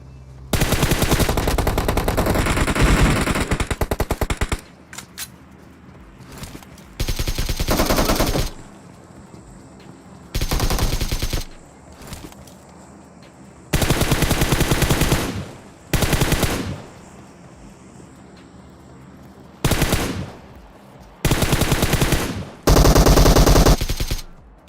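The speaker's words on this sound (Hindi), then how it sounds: "मैं अपना सीधा बोट फायर करना शुरू कर देता हूँ।" PUBG Mobile gunfire comes in loud, rapid automatic bursts, repeated several times with short quieter gaps between them.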